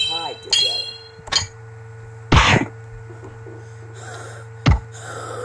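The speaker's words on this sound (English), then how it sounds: "Sorry about my pathetic cough." A few short, sharp coughs spaced apart over a steady low hum, close to the listener.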